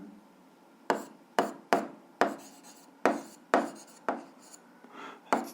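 Pen strokes on paper while writing out a physics equation, heard as a series of short scratchy strokes that each fade quickly, close and clear in a quiet room with no talking.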